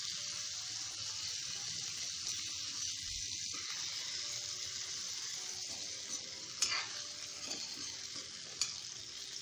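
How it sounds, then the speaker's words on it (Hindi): Crispy okra (bhindi) frying in a pan, a steady bright sizzle of hot oil with occasional stirring clatter, fairly close and continuous, with no talking. "देखिए बहुत ही करारी हमारी भिंडी यहाँ पे तली जा रही है"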